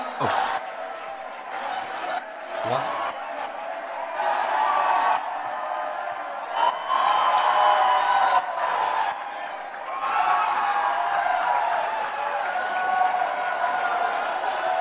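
An audience at a large motivational event cheers and claps in a sustained wash of crowd noise, with whoops and surges in loudness, while voices shout over it.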